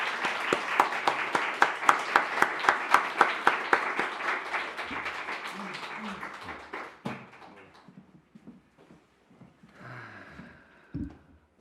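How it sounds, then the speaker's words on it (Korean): A church congregation claps together at a Friday night service, fast dense applause that is loud at first, then thins and fades over several seconds, followed by faint scattered sounds and a few quiet murmurs. "우리 박수로 하나님께 영광 돌리고"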